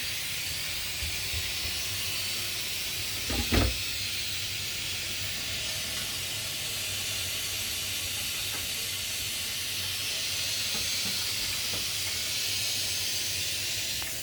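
Eggplant kavurma sizzles and hisses steadily in a pan on the stove, a continuous close bubbling hiss with one brief soft knock partway through and no talking.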